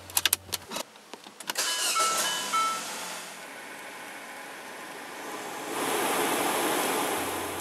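A car engine starts after air conditioner servicing with a refrigerant charging station, with a few sharp clicks followed by the engine catching and settling into a steady running hum, joined by a louder rushing blower-like wash toward the end.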